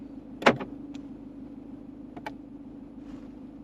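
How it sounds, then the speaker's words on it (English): A sharp mechanical clunk of car door locks engaging, followed by a quieter second pair of clicks, over a steady low idle hum. "we can lock the car."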